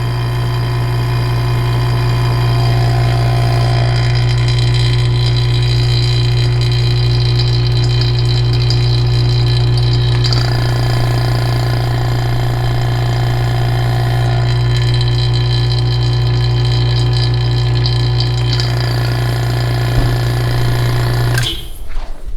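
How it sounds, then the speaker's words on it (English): A transmission pump vacuum test machine runs continuously with a loud steady hum and rhythmic mechanical pulsing, unchanging for the whole stretch before cutting off at the end. "I'm going to fire up the vacuum test machine"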